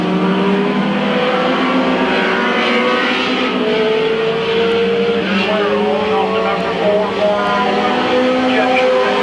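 ARCA Pro 4 race cars roar down the backstretch at Midvale Speedway, a loud continuous engine drone with shifting pitch as the field passes, heard under an announcer's running commentary.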